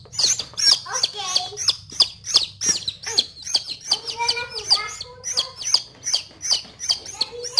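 Dense, rapid high-pitched peeping of many small chicks, continuous and close, with soft shuffling underneath.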